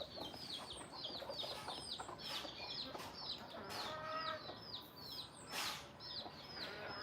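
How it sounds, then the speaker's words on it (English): A flock of farm chickens clucks steadily around the listener, a dense, continuous chatter of short rhythmic calls at moderate distance, with some rustling and no speech. "Give you some chicken action there."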